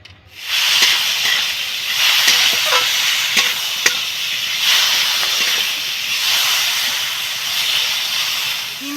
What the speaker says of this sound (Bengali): এর মধ্যে আমি তেল দিয়ে একটা একটা করে সবজিগুলো ভাজব প্রথমে আলু আলুগুলোকে ভাজবো